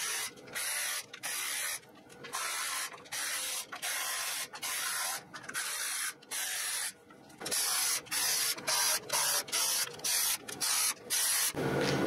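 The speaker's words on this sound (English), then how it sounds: "I need an E10, and I just need to take all the bolts off" Captured valve cover bolts on a BMW N20 engine being removed with an E10 socket and ratchet: bursts of fast ratchet clicking alternate with brief pauses, close by and fairly loud, with no talk.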